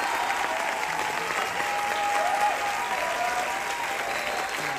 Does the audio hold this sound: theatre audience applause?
yes